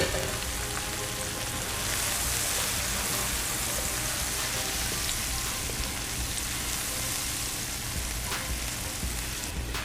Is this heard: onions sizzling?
yes